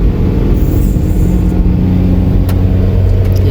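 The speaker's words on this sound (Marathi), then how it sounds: "गाडी चालली या ठिकाणी." A motor vehicle drives steadily past with a continuous low engine rumble and broadband road noise, fairly loud and sustained throughout, with a faint brief click or two near the end and no talk.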